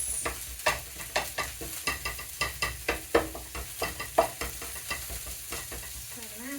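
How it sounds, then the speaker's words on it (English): Onions sizzling and frying in a pan with repeated stirring scrapes and clatters at a steady rhythm, close up, no talking. "Onions are frying. Don't want to overdo the onions."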